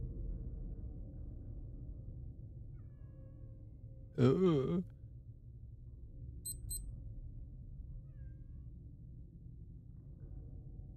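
A single short cat meow in a horror video game rises clearly over a low, steady background hum, followed by a couple of faint high electronic blips.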